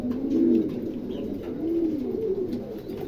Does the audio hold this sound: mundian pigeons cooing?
yes